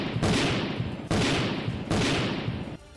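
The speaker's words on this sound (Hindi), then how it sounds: "ड्रोन से ली गई इन तस्वीरों में एक इमारत आग की लपटों से घिरी दिखाई दी, जिसमें एक के बाद एक कई धमाके होते दिखे" Three heavy blasts in a row at a burning ammunition depot, each a broad booming rumble that rolls on for about a second, sounding distant and powerful with crackling debris.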